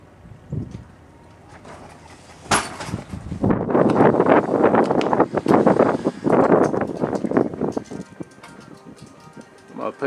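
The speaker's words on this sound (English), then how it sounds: "It's kind of windy." Wind gusts buffet the microphone outdoors beside a 2012 Coachmen Catalina travel trailer, swelling into loud rumbling bursts mid-clip and easing off, with a faint bird coo and some talk mixed in.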